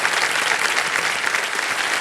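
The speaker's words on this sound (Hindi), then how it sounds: "तालियां बज जाए इनके लिए" A studio audience on the television quiz show Kaun Banega Crorepati claps in dense, steady applause that fills the whole stretch at an even level, with no talking over it.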